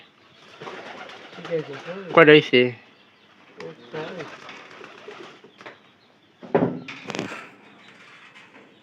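Pigeons cooing close by in a few short bursts separated by quiet gaps, alongside a brief spoken question and some knocking.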